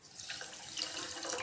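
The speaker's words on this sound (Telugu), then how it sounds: "ఒక కప్పు వాటర్ పోసుకొని" Water pours into a cup for sugar syrup while preparing a carrot sweet, a short, soft splashing trickle heard close and quiet, lasting just over a second.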